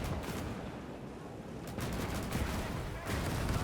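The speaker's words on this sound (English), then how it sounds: "Oh, those 20 mils are engaging at a distance." Distant 20 mm rapid-firing guns fire in a Soviet gun fortress defense battle in Gates of Hell, a dense continuous fusillade of overlapping shots swelling louder midway and again near the end, with no talking.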